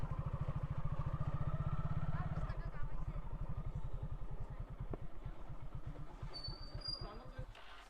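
A motorcycle engine idles close by in Rangshapara village, Goalpara, Assam, with a strong regular thumping pulse that slows after a couple of seconds and then ticks over evenly.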